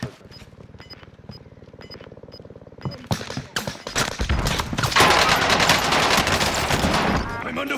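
Rapid gunfire in the Call of Duty: Vanguard Resurgence match on Caldera, from a BAR rifle: a few sparse shots with beeps at first, then dense loud bursts and a sustained barrage, with voices talking over it.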